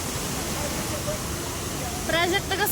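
Waterfall at Bhandardara in light rain, a steady broad rushing roar of falling water heard close, with people talking over it toward the end.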